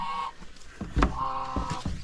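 Hens on a farm in rural Ireland cluck and squawk close by, with several sharp calls over a steady clucking chorus.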